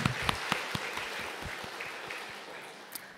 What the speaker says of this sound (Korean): 우리 응원의 박수 같이 한번 하겠습니다